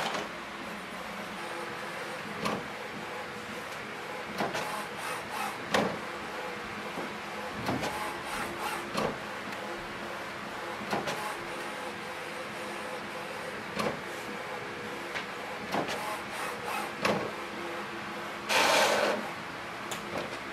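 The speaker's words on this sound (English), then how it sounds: "So it's going to print the alignment page." An HP printer printing an alignment page gives a steady mechanical whirr broken by repeated clicks and clunks, running continuously for about twenty seconds with a louder burst near the end.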